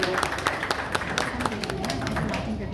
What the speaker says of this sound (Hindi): उनके लिए एक बार जोर से ताली बजाएं।